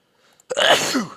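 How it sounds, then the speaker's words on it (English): A single loud, close sneeze bursts out after a brief quiet intake, then trails off. "just sneezed"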